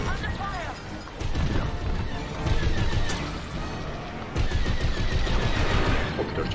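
A TIE Interceptor starfighter fires its cannons in Star Wars: Squadrons, with a dense, loud barrage of rapid laser shots and crashes under ongoing engine roar, while someone speaks French over it.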